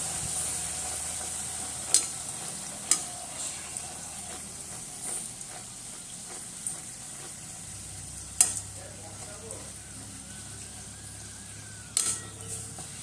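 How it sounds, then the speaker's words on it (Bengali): Luchi, soft puffed Bengali flatbreads, deep-frying one by one in hot oil, a steady close sizzle with a few sharp clinks of utensils against the pan and an occasional stir. "আবারও এক এক করে আমি লুচিগুলো ভেজে নেব।"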